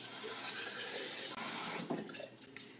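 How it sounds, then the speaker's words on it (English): Water poured into a spaghetti sauce jar, a brief close splashing trickle that fades out quickly, faint overall. "Now what I'm going to do is put a little water in there."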